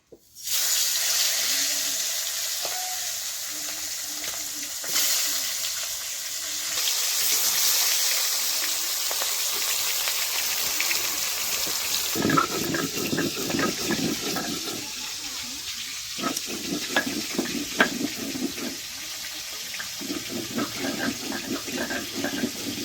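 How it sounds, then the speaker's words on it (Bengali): Boal fish frying in hot mustard oil in a kadai, a steady broad hiss throughout that grows busier with close crackles and spits in the second half. "তেল গরম হয়ে গেছে এখন মাছগুলো ভেজে নিচ্ছি"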